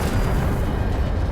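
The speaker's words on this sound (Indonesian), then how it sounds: "Dan benar saja, ledakan yang dahsyat terjadi." A huge golem explosion in the anime Shangri-La, a loud, dense roaring blast with heavy low rumble filling the whole short moment.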